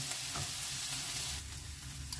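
Potatoes fry in oil in a pan, a steady close sizzle that runs throughout with no talk.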